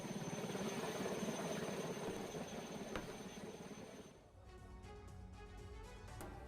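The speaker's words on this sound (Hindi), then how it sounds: "जम्मू कश्मीर के राजौरी में हेलीकॉप्टर की इमरजेंसी लैंडिंग एक खेत में करानी पड़ी" A helicopter sits in a field after an emergency landing caused by a technical fault, its engine and rotor giving a steady whirring drone that fades toward the end, with no talk.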